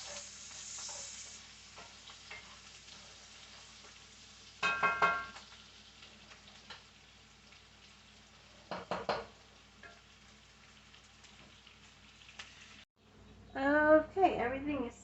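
Food cooking and being stirred in a pan, with a soft steady sizzle broken by a few louder scraping stirs and a brief clatter of utensils near the end, no talking.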